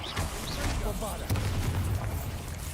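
A Bombarda spell explosion in the Hogwarts Legacy video game: a sudden deep boom about midway through, rolling out over continuous game rumble, with a voice speaking across the clip.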